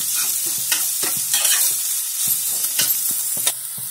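Onions sauté in a pan with ginger and green chili as the vegetable stuffing for moong dal chila, sizzling close up while a spoon scrapes and stirs in irregular strokes.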